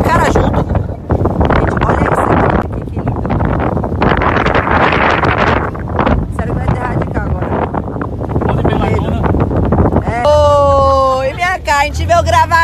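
Strong outdoor wind during a music-video shoot buffets the microphone in loud, steady gusts, with people talking throughout.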